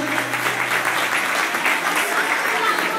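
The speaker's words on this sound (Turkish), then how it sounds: "Bu güzel kızlarımıza şöyle kocaman alkışlar." A crowd gives the girls a big round of applause, with dense, continuous clapping at a steady level from start to finish.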